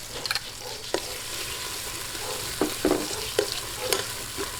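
Tomatoes and tomato paste sauté in a pot for a Korean-style pork sinigang, giving a soft continuous sizzle broken by several sharp scraping stirs of a utensil, close and fairly quiet, with no talking.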